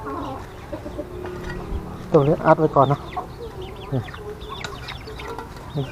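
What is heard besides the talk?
chickens clucking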